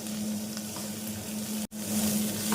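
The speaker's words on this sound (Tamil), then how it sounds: "குடைமிளகாய் இரண்டு நிமிடம் நன்றாக வதங்கவும்" Green capsicum sautés in a hot pan for egg manchurian, giving a steady, close sizzle and crackle with a brief drop in sound midway.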